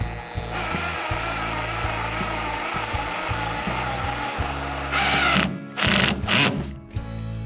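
A power drill drives screws while a Hobie 2020 Outback kayak anchor trolley kit is installed, a steady close whirring run that gives way to several short separate bursts near the end, with no talking.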